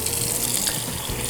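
Water pours steadily from a tap into a cup, a half cup for starting yeast in bierocks dough, a close, even gushing stream throughout with no voices.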